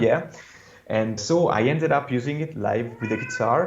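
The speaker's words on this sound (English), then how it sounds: "Sorry for the cat." A cat meows and caterwauls in the background of an indoor interview with a bass musician, its cries mixed under steady conversational talk.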